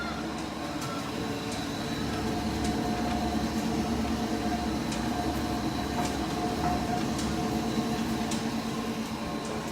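A Big Hanna composter shredder runs at a zoo, a steady, loud mechanical drone with a constant hum and faint periodic clicks throughout, no voices over it.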